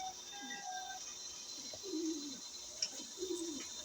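Pigeons in a loft give soft, low cooing calls, a few separate coos rising over a faint steady background hum, with occasional brief chirps.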